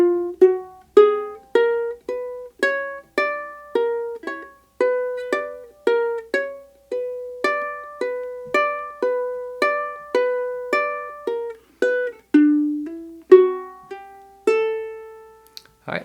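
Ukulele playing the Waltz of the Flowers melody from The Nutcracker, a long run of crisp plucked notes in a lilting triple-time rhythm, close and solo, with a quick hammer-on lick near the end.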